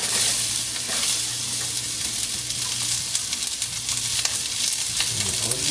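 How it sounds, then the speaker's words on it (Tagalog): Onions frying in a pan fill the close foreground with a dense, continuous sizzle and crackle, with faint stirring scrapes beneath and no talk. "Tapos, pag medyo mainit na, lalagay na natin yung onions."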